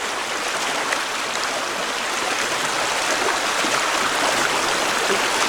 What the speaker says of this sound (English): So this stream, it's a decent sized stream.